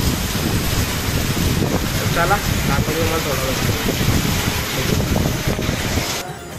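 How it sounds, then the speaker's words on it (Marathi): Steady, loud roar of monsoon wind and rain battering the microphone outside a room at Murudeshwar, continuous throughout, with a voice speaking briefly underneath. "भरपूर पाऊस लागला इथं"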